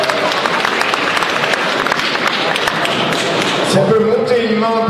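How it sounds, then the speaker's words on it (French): Audience at the Golden Blog Awards 2011 ceremony clapping in a sustained, busy round of applause that thins toward the end, with a voice speaking briefly over the tail. "Applaudissez-la, ça va peut-être venir quoi."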